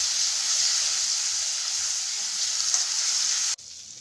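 Ginger garlic paste fries in hot oil for a tomato curry, a loud, steady, close sizzling hiss that runs unbroken before cutting off abruptly near the end.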